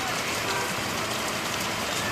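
Unseasonal rain falls steadily in Vav-Tharad district, a dense continuous hiss of drops on surfaces, close and loud throughout.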